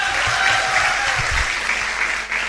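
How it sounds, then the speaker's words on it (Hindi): An audience at a business event applauds, a dense burst of loud clapping close by that carries on steadily for a few seconds. "तो जोरदार तालियां दोस्तों।"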